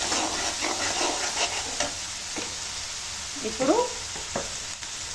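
Ginger-garlic paste and turmeric fry in a pan for red chilli chicken, a busy sizzle broken up by scraping stirs and clatter from the utensil, with one brief spoken word.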